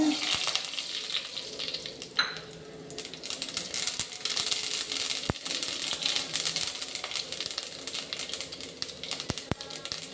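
Mustard seeds, urad dal and chana dal frying in hot oil, a dense crackling sizzle with scattered sharp pops and a few clicks of a spoon, steady for ten seconds without speech.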